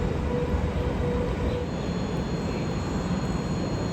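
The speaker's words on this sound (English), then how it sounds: "Again, as soon as one train's out, another one's in." A train rolls through a station in Zurich, a steady, close, continuous rumble and rattle of wheels on rails that holds at an even level throughout, with no voices.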